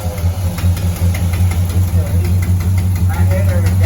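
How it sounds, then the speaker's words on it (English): A 1988 Chevrolet Monte Carlo SS V8 running on a cold start, a loud close idle with a steady low rumble and slight knocking pulse, with people talking over it. "All right, this is cold start. Take 2. It's still cold."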